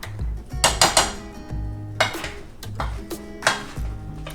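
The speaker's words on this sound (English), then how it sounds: "You just want to make sure you mash those up real good." Freshly made potatoes are mashed in a pot with irregular metallic clanks and scrapes of a masher against the pot, close and fairly loud.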